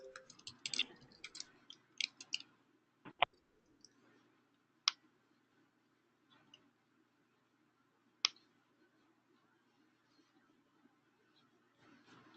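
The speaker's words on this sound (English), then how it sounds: "I apologize that I can't type and talk at the same time." Quiet, sparse clicks of computer keyboard keys come in short bursts and single taps, with long pauses between them, close and faint, as someone enters text into an online sharing portal.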